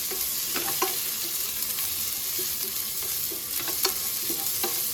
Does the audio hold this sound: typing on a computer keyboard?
no